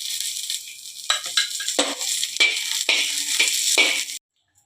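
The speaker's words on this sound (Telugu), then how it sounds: "తర్వాత కావలసినన్ని పచ్చిమిరపకాయలు తీసుకొని కొద్దిగా నూనె వేసి వేయించుకోండి" Green chillies fry in a little oil for a tamarind pickle, a bright crackling sizzle broken by several stirring scrapes and clatters, then it stops abruptly near the end.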